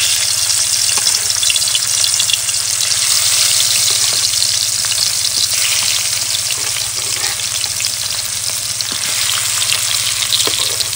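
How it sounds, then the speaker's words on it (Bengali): Tilapia fish sizzling and frying in hot oil, a loud, dense, continuous crackle holding steady throughout with no talking. "তেল কিন্তু গরম হয়ে গেছে, এইবার দিয়ে দেবো মাছ। আগে তেলাপিয়া মাছগুলো ভেজে নেবো।"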